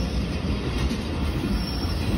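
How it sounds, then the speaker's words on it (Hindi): Green Line Express passenger train arriving at Malir railway station with a faulty locomotive, a steady loud rumble of wagons rolling past with metallic wheel noise throughout and no voices. "6 डाउन ग्रीन लाइन एक्सप्रेस भी आ चुकी है"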